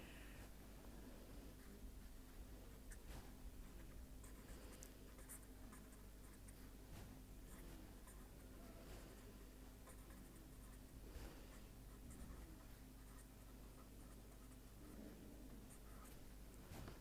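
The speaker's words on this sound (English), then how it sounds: "but still for helping you I am writing it" Pen or chalk writing out integration formulas by hand, a faint continuous scratching and tapping under a steady hiss, with no talk.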